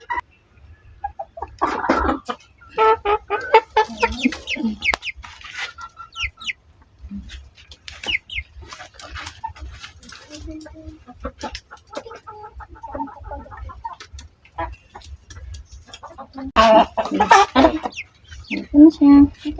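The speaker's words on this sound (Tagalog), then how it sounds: "Naghihintay na ang mga manok." Backyard chickens clucking and calling while waiting to be fed, a mix of close, loud clucks and squawks in irregular bursts with quieter stretches between, joined by a low steady hum throughout.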